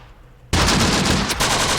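Sudden loud machine-gun fire from a World War II night battle in Sicily in the video game Close Combat, a continuous rapid burst after a quiet start with one brief break.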